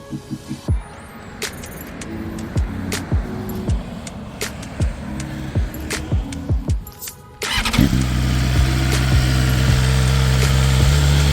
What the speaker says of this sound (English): I'll let you listen to the startup of the bike